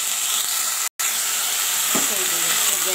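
Potato and eggplant pieces fry in oil in a pan, giving a steady, close, loud hiss of sizzling, briefly broken once, with a small clatter of stirring near the end.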